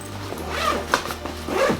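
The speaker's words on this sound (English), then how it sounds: "It has a center zipper. You open that up" The center zipper of a carry-on duffel bag is pulled open in a few close, scratchy zipping strokes.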